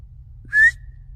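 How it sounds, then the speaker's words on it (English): A single short, clear whistle-like tone rises slightly and sounds out of the woods at night, brief and distinct over a low background rumble. "What was that? That was like a whistle."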